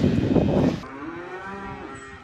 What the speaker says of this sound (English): We have loads and loads of big, noisy cattle